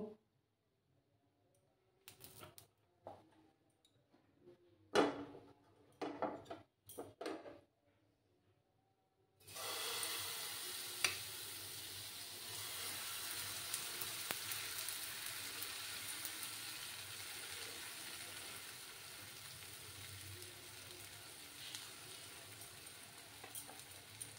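Egg paratha frying in a pan gives a constant close sizzle and crackle that starts abruptly partway through, after a stretch of quiet handling clicks and scrapes.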